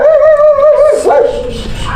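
A dog gives a drawn-out whining yelp that rises into a sharp wavering cry, close and fairly loud, then trails off into quieter whimpering.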